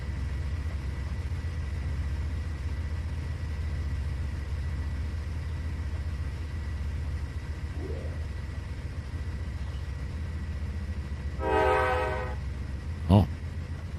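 A locomotive in the Trainz 2019 simulator rumbles steadily toward a level crossing, then sounds one loud horn blast, followed shortly by a brief second toot near the end.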